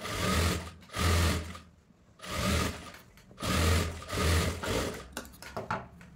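A sewing machine stitches a cloth frills frock in several bursts of steady running separated by short pauses, close and fairly loud with no talking.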